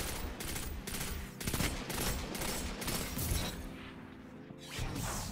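Rapid, dense bursts of Iron Banner pulse rifle fire in a video game, rattling loud and close almost without pause, with brief gaps between volleys.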